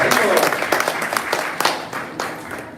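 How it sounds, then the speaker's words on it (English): An audience at a temple festival gathering applauds the parents of honored guests, a short burst of brisk, fairly loud clapping with a few distinct claps standing out. "Let's give a round of applause for their mother and father."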